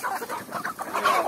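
Chickens clucking in a farmyard where corn is being scattered, a dense overlapping chorus of short calls from several birds nearby.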